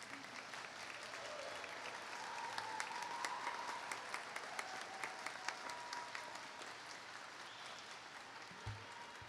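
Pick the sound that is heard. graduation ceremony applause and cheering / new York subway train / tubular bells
graduation ceremony applause and cheering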